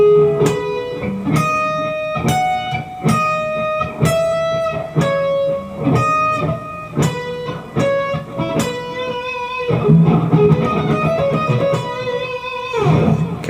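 A slow guitar line from a solo, single picked notes each ringing briefly before the next, with a few bent or sustained notes near the end; no voices.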